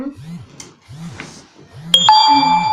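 A phone ringtone starts partway through and rings loudly with sustained electronic tones, after several short rising chirps.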